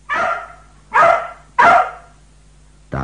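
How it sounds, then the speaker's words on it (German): A dog gives three loud, close barks at even intervals, with a fourth starting at the end, and quiet gaps between them. "Da bellt der Knuddel beleidigt auf."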